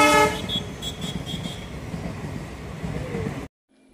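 Train horn toots repeatedly at a closed railway level crossing, loud and near at first, then fading into steady rumbling rail traffic noise before cutting off abruptly.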